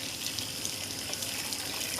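Water dumped from a rain-barrel filter pitcher holding mucky debris pours and gushes in a steady, moderately quiet stream with no voices.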